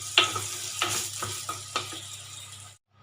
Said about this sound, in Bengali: আমরা আবার নাড়িয়ে চাড়িয়ে ফ্রাই করে নেব।